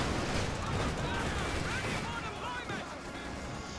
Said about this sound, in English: Predator's gone for double Calliope. No tech up there, just more rockets, more death